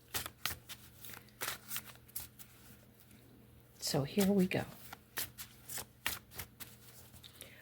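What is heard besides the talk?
shuffling a deck of cards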